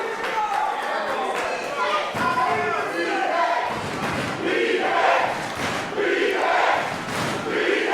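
A live crowd at a pro wrestling championship match in Texas roars and cheers continuously, loud and dense, with scattered shouts rising through the din.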